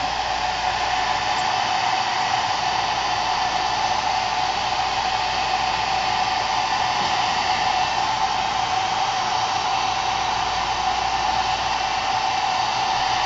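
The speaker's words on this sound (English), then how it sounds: "you can turn the blow dryer up if you want" A hair dryer blows steadily at close range while styling a bob haircut, a constant loud whooshing hum with no breaks and no voices.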